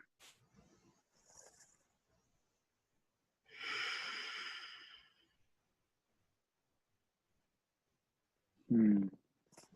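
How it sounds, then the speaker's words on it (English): A single deep breath taken during a yoga session, drawn slowly for about two seconds and close to the mic in a quiet room, followed later by a brief nasal snort. "could we take one deep breath just to tune in?"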